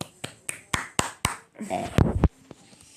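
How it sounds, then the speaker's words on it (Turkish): Several sharp hand claps in a quick, uneven series, mixed with short bursts of nearby talk and game chatter from a Roblox session; the claps are close and crisp but few. "Bir alkışlayalım."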